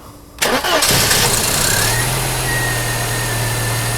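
A Mercedes W124 230E with a faulty engine computer fitted cranks briefly and fires up, settling into a loud, steady idle recorded close by.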